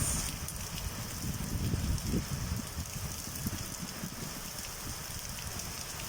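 Heavy rain from Tropical Storm Grace in Jamaica roars steadily and densely, a broad wash of noise with a low rumble, constant and fairly loud with no voices.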